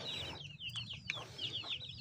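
Farm chickens cluck in short repeated calls close by, several birds overlapping in a steady, busy rhythm with no voices over them.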